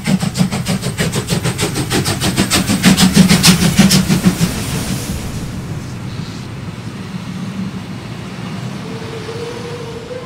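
Steam locomotive 01 1104 pulls into Kirchenlaibach station with loud, rhythmic exhaust beats that soften into a steady rolling rumble as it slows.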